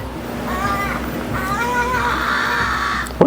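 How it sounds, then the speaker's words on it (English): A crow cawing outdoors beside a 2013 Chevy Silverado 1500 pickup under repair, several loud, close, hoarse calls in uneven bursts, then a sharp knock at the very end. "There's a crow."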